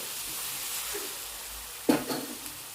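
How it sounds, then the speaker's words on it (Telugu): Taro masala curry fries in a pan with a soft continuous sizzle, then a short sharper stirring scrape and a couple of fainter scrapes close by. "ఇది కొంచెం వేగనిద్దామండి చూడండి ఇలా వేగుతుంది కదా ఇప్పుడు"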